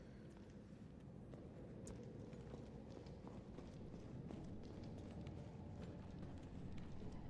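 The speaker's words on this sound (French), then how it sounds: "C'est mes bruits de pas que j'entends" Player character's footsteps in the Resident Evil 3 video game, a steady run of clip-clop treads over a low rumbling ambient bed, moderately quiet and continuous throughout, with no talking.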